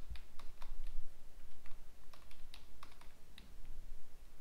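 Steady typing on a computer keyboard as HTML form code is entered, with quick irregular key clicks continuing throughout and no voice over them.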